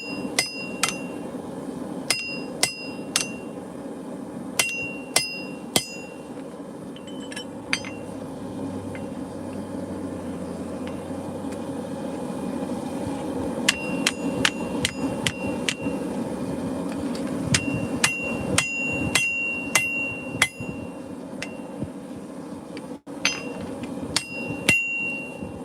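A hammer strikes hot steel while forging a meat cleaver, ringing out in sharp metallic clangs that come in irregular clusters and rapid runs over a steady background hum of the workshop.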